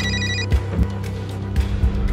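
An electronic telephone ringtone trills briefly at the start, then stops as low thumping music and scattered knocks carry on close by.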